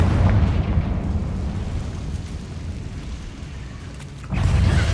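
Confringo spell blast in Hogwarts Legacy, a loud, rumbling explosive burst that booms, slowly fades into a low roar, then flares again near the end, with no voices.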